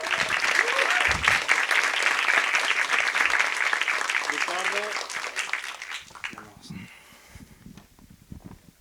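Audience applause welcoming a speaker onstage at a screenwriting talk, loud sustained clapping from a crowd for about six seconds, then fading into scattered claps while a voice speaks.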